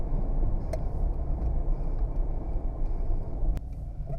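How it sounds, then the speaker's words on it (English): Toyota Supra driving on a dirty, dusty road, heard from inside as a steady low engine and road rumble with a few faint clicks and rattles. "it feels so good to drive this car again"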